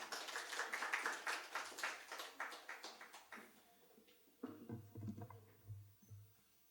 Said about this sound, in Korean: 우리 큰 박수로 환영하겠습니다.